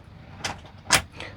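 A drawer in a DIY 4x4 ambulance camper conversion slides and knocks in two or three short, sharp bursts, close by, with the second bang loudest.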